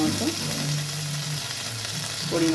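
Ginger paste going into hot oil tempered with nigella seeds and a chili for a vegetarian spiny gourd dish, giving a steady close sizzle with a brief hiss at the end.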